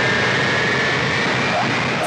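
Cartoon airplanes taxiing in a Ukrainian animated film, their aircraft engines making a steady, dense roar that fills the whole short stretch without letup.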